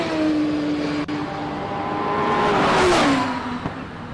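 Gould race car accelerating up the Simola hill climb, a loud engine whine rising and falling through the gears as it sweeps past, with steady road and wind roar underneath.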